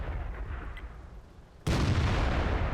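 One sudden heavy blast from a tank gun in World of Tanks, loud and booming, its noise holding on after a quiet stretch of low rumble, with no talking.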